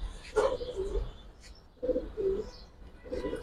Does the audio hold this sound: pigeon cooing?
yes